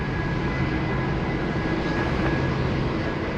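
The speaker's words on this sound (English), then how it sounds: "That's a DC-10." A McDonnell Douglas DC-10 airliner at Anchorage airport gives a steady, broad engine roar that holds at moderate loudness from a distance, with no speech.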